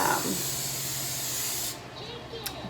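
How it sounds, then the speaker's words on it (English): Cooking spray from a can hissing steadily onto muffin cups over a sink, one long close spray that cuts off sharply, followed by light handling noise. "I'm actually going to spray it over the sink"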